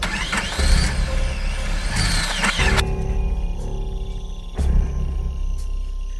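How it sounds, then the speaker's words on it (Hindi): An engine cranks and revs roughly, then cuts out abruptly, leaving a faint hum before a second short sputter. "गाड़ी स्टार्ट होकर बंद हो जाती है"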